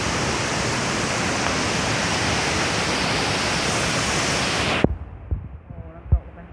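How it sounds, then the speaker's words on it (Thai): A waterfall rushing loudly as a dense, steady broadband roar, recorded close by on a family outing in rainy weather, cutting off abruptly near the end to leave a few faint knocks and quiet background. "โอ้น้ำตกไปข้างล่างนะครับ"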